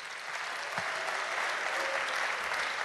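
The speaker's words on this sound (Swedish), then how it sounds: "Ge honom en riktig varm applåd" A church audience in Stockholm applauds as a speaker takes the stage, a steady, fairly soft wash of many hands clapping evenly throughout.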